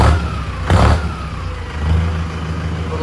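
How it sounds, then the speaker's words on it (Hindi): A Mahindra Arjun Novo 605 DI 4WD 50 hp tractor engine revs with a steady, deep rumble, swelling louder twice as the throttle opens, then settling back to a throaty idle. "आवाज़ बहुत ही ज़बरदस्त है ट्रैक्टर की।"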